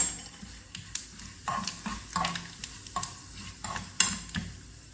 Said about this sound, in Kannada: ಇದು ಒಗ್ಗರಣೆ ಕೊಡೋದು